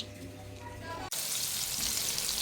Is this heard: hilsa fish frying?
yes